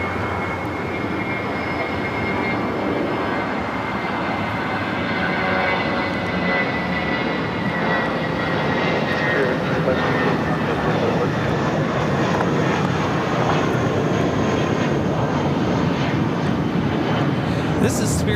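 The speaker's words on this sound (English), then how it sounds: "This is Spirit Airlines" Spirit Airlines Airbus A320 taking off from LAX, bound for San Jose: a steady, loud jet engine roar holding throughout, with faint talk running beneath it.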